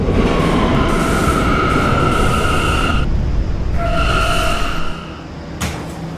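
A PTA subway K line train runs loud and steady, with a broad rumble and sustained tonal whine that drops out around three seconds, returns, then eases to a quieter level near the end.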